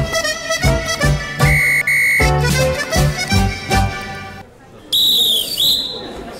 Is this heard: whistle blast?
yes